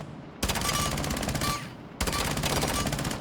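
P90 submachine gun firing in Rainbow Six Siege, two rapid sustained bursts separated by a short break, crisp and close with no talk.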